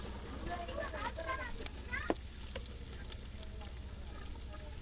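Prawns frying with salt in a pan over a village kitchen fire, a continuous soft sizzle and crackle with a brief sharp pop, while voices talk quietly over it.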